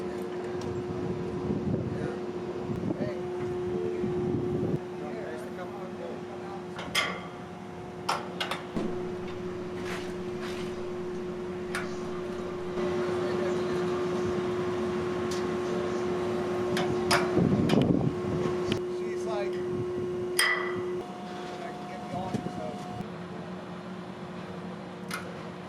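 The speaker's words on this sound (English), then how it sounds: "the winches are moved to pull them up into position" Winches hauling the legs of a KMG Fireball/Afterburner fairground ride up into position, a steady mechanical drone with a sustained tone, intermittent clanks and ticks, and wind noise throughout.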